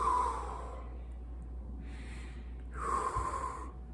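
A person breathes out deeply twice, each exhale a soft, airy breath close to the microphone, with a quiet pause between them.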